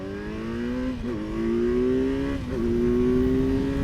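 A 2017 Kawasaki Z900 motorcycle engine revs hard while accelerating, its whine climbing through two quick gear-change dips and then holding strong and loud, close up with no voices.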